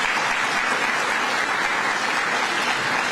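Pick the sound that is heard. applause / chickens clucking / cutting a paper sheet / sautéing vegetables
applause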